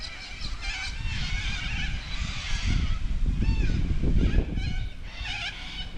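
Many birds calling on the river at a donation campsite beside an RV rest stop near Gundagai, honking goose-like calls over a constant rumbling background that swells midway through.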